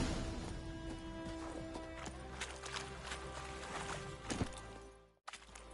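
Horse hooves clip-clop steadily in The Witcher 3 video game, close and moderately loud over a sustained musical drone, with a brief sharp clatter near the end before a sudden cut.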